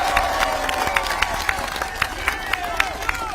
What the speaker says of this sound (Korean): 우리 전라북도 열성을 지켜주신 이재명 대표님께 큰 박수 한번 부탁드립니다